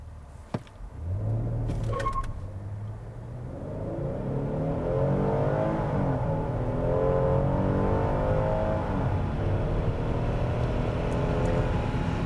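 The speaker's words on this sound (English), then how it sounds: "see what we can do 0 to 60 wise in this thing" A 2021 Hyundai Palisade Calligraphy SUV launches in a 0 to 60 run, engine note climbing steadily through the gears in a loud, rising whir with no talk.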